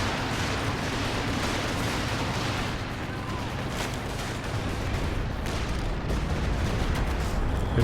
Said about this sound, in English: that Katyusha barrage was still going